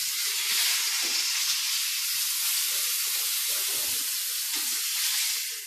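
A steak fries in a pan with a bright, steady sizzle and hiss heard up close, and soft clinks and stirring knocks surface now and then beneath the constant crackle.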